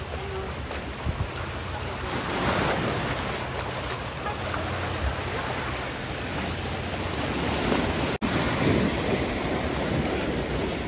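Strong ocean waves at Cheung Sha Beach on Lantau Island roar and wash continuously close by, with wind buffeting the microphone and a brief knock near the end.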